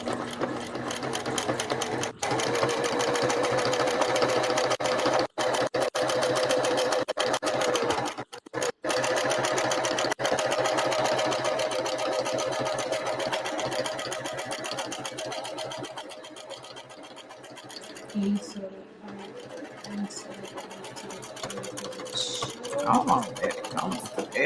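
Sewing machine stitching a beanie, a fast rattling mechanical whir running in long continuous bursts with short pauses, close and fairly loud, with a person talking at times.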